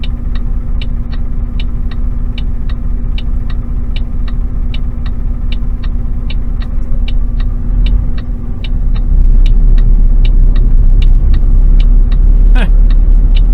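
A car rolls along a road near a pickup truck in short-haul trucking traffic, with a steady engine rumble and road noise throughout, a regular ticking like a turn signal, and a louder surge toward the end.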